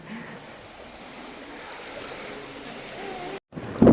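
A small stream of the Tamsa river runs through the rocky Guchupani (Robbers Cave) gorge near Dehradun, Uttarakhand, giving a steady, close rushing wash of water that ends with a brief gap and a louder splash.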